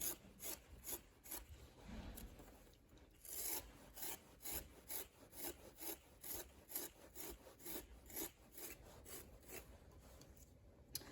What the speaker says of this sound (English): the tip is to scrape it little as you go along and not try and take off a huge chunk